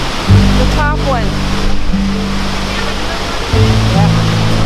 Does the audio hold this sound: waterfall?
yes